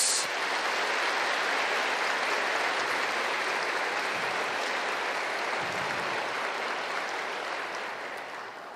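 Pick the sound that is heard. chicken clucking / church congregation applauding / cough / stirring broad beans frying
church congregation applauding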